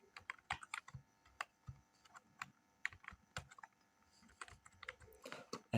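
Fingers typing on a computer keyboard: quiet, irregular clusters of clicking keystrokes close to the microphone, with brief pauses between bursts and no one speaking.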